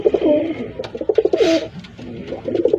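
Pigeons coo up close in a soft, throaty, rhythmic warble that repeats in bursts, broken by a brief rustling flutter midway.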